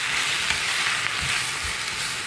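Drumstick leaves sizzle while being sautéed in a pan for murungai ilai varai, a steady close hiss with faint stirring scrapes and no voices.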